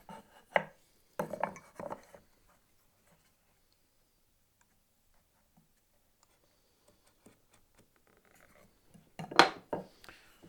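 Marking knife scoring a line across a wooden board for a lap joint, heard as a few short, close scraping strokes near the start and another burst near the end, separated by a long near-silent stretch.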